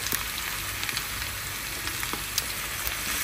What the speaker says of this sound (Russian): Вот пока она жарится, уже такой аромат